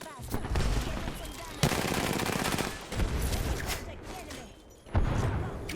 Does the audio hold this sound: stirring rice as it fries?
no